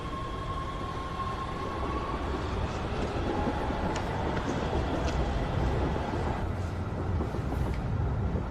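Steady rumble and rushing roar inside a moving subway train carriage, continuous broadband noise with faint squeals and clicks, no talking.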